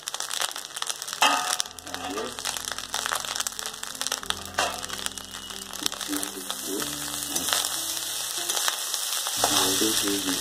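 Egg chicken Schezwan fried rice, Pune style, sizzles and crackles in a pan as a steady loud frying hiss with scraping and stirring, while music plays throughout.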